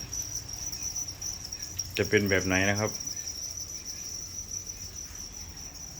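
Crickets chirp in a constant high trill inside a plastic bin, with someone speaking briefly partway through over the steady buzz.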